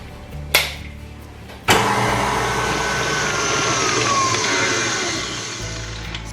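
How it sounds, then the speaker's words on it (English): An electric mixer creams margarine for a cake: a click, then the motor switches on with a sudden jolt and settles into a steady, close whirring drone. "in my mixer, and I'm going to set it off and let it cream till it's light and fluffy"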